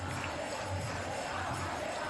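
Devotees throng a Krishna temple on Janmashtami, their crowd murmur a dense, steady wash of indistinct voices at moderate distance, with no single voice standing out.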